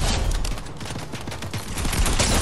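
Rapid automatic gunfire in a shooter game, a dense rattling fusillade of loud close shots that fills the whole stretch without letup.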